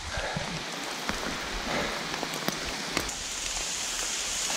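Heavy rain pours steadily outdoors on a cycling route, a dense continuous hiss dotted with sharp individual drop hits, with no voices.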